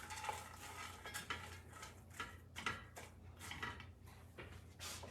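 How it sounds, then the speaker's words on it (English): Ground meat and carrots being stirred in a pan for shepherd's pie, with repeated scraping and clinking of a utensil against cookware in an irregular rhythm, close and moderately loud. "So stir that up a little bit just to get the meat and the carrots,"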